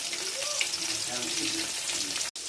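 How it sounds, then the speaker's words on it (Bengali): Fish rubbed with salt and turmeric fries in a pan, giving a continuous close sizzle with a hissing crackle that holds steady for about two seconds before a brief cut. "মাছ প্রায় ভাজা হয়ে এসছে।"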